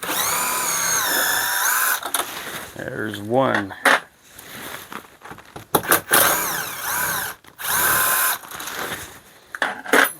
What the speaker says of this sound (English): I like the Bosch little impact drill